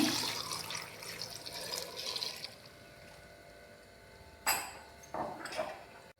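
Water poured into a pot of sambar vegetables and dal, a splashing gush for a few seconds that eases off, followed by two brief louder splashes near the end.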